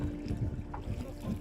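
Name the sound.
strong wind blowing over lake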